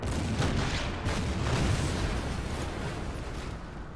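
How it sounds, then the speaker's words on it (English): Artillery fire in the strategy war game Order of Battle, a dense, steady rumble of booms and bursts that stays loud across the whole stretch with no pauses. "Artillery here will fire on the fresh engineers that has arrived."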